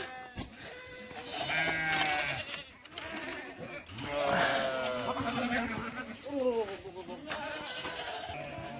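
Goats let out of their pen in the morning bleat again and again in wavering calls, fairly close, while people talk over them.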